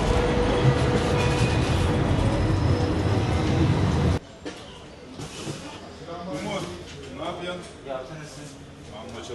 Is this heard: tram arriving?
yes